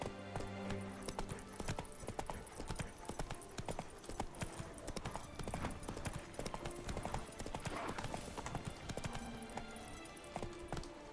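Roach the horse gallops in Witcher 3, hooves clip-clopping in a steady fast rhythm close up, with a brief whinny and faint game sounds around.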